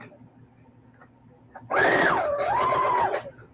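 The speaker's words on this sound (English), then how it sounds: "I'm gonna back stitch a little bit" A sewing machine back stitching quilt fabric for a crazy quilt, one loud close motor whir lasting about a second and a half, its pitch rising, dipping and rising again as the stitching direction changes, after quiet room tone.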